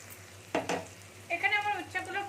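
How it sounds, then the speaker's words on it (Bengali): Bitter gourd pieces half-fry in oil with turmeric, a quiet, soft sizzle interrupted by a couple of sharp knocks and a brief tonal, voice-like sound near the end. "এবার এখানে আমি ভেজে নিচ্ছি ভালো করে আধ ভাজা করে ভেজে নিয়ে ফিরে আসছি"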